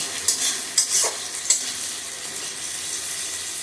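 Onions with a little sugar fry in a pan, a constant close sizzle broken by a few sharp stirring scrapes near the start, then settling into a steady hiss with no voices.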